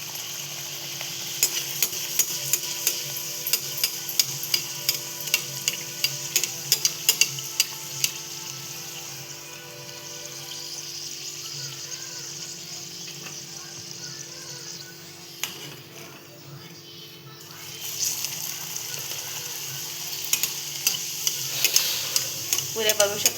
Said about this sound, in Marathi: इथे आपण तेल तापवायला ठेवले, त्यात आता पुऱ्या आपण तळायला टाकतोय.